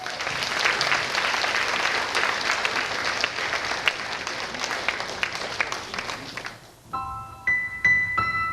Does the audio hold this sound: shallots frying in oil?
no